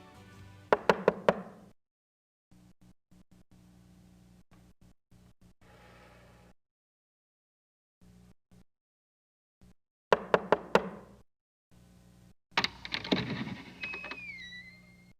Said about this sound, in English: unannounced, just knocks on the door.